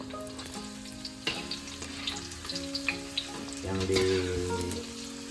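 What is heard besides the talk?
frying shallots in hot oil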